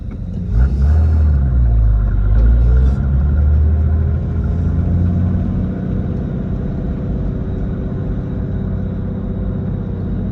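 A Y60 GQ Nissan Patrol drives in four-wheel drive, its engine a steady, loud low rumble that stays close and continuous throughout, with a brief heavier surge near the start.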